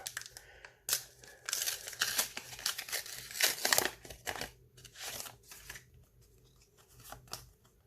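Pokémon booster card packs from a 2022 McDonald's promotion being torn open and handled, with bursts of crinkly foil tearing and rustling close by, interspersed with quieter pauses and no talking.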